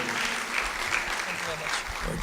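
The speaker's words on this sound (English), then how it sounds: "A round of applause for Oluwadamilola Abdullahi Apotieri." Applause from an event audience in Nigeria welcoming a CEO to the stage, a steady wash of clapping under some faint voices, held at an even level throughout the short stretch.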